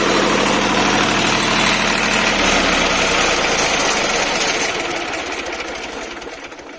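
A diesel generator runs at low throttle, a loud steady mechanical rumble with rapid knocking pulses that eases and fades over the last couple of seconds.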